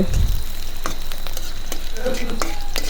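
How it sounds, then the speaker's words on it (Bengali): Onions fry in hot oil in a pan for a hilsa fish curry with eggplant, potato and tomato, a loud constant sizzle broken by occasional scraping stirs, with a thump at the start. "দেখুন পেঁয়াজটা আমি ভেজে নিতেছি"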